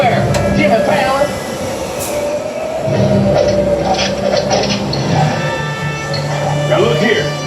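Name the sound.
studio tour tram riding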